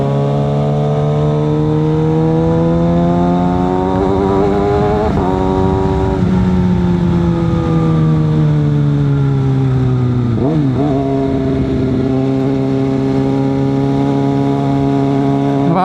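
A 2022 Kawasaki ZX6R sport bike on busy Philippine roads, its engine loud and close, revving hard with steady rising and falling pitch sweeps across several throttle pulls for the whole stretch.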